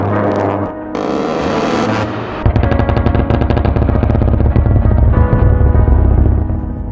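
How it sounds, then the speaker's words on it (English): GAU-8 Avenger 30 mm rotary cannon on an A-10 Warthog, rated at 3,900 rounds per minute, firing in loud sustained bursts. Each burst is a dense, continuous roar, heard together with a heavy music-like backdrop and with no talk. "The GAU-8 Avenger isn't just a weapon, it's a symbol of immense firepower."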